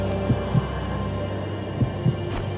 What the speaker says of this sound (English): I can hear heartbeats.